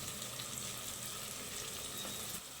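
Food frying in a pan with salt and chili powder added, a steady close sizzle and crackle running without pause, no voices.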